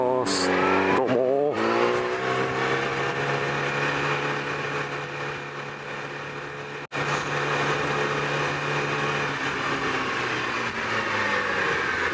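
On a residential street heard from a Yamaha YZF-R6 motorcycle, a steady engine drone hums throughout as a car approaches, with shifting tonal revs and a brief cutout midway, while a voice talks over it.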